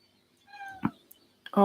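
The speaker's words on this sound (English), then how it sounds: "my cat is now wanting to go out" A house cat meows indoors, a rising then falling tonal call near the mic, followed by a short rustle and a brief second vocal sound at the end.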